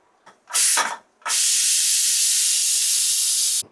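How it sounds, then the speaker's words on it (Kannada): A pressure cooker of masala khichdi releasing steam: two short hissing bursts, then a loud, steady, close jet of steam that runs for over two seconds and cuts off abruptly, with no voices. "ಈಗ ಪ್ರೆಷರ್ ಬಿಡೋವರೆಗೂ ಇರಲಿ."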